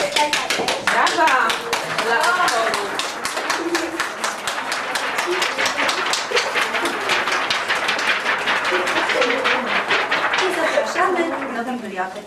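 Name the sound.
children applauding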